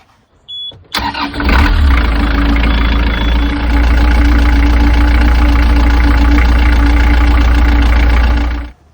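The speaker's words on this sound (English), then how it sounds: "So you're going to run the engine" A narrowboat's diesel engine starts with a short cranking burst, then settles into a loud, steady, rumbling run close by.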